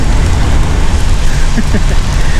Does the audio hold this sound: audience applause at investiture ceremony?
no